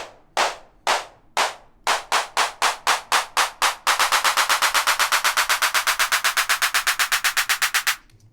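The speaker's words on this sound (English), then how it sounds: "the claps are going to be pitched low, and as the playhead passes these MIDI events, it's going to rise in pitch." Programmed MIDI handclaps in Logic Pro X, bent upward in pitch, start as spaced low claps, then speed into a rapid, even roll that climbs steadily higher before stopping abruptly.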